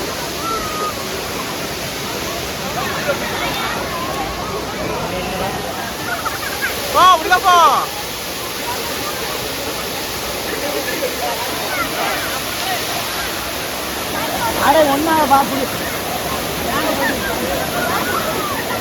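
The Siruvani waterfall near Coimbatore roars steadily as a loud, continuous rush of falling water, with a few brief louder surges and voices faintly under the din.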